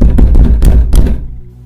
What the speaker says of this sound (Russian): Стук повторился.